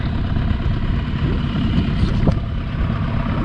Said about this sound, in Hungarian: Motor addig hadd menjen.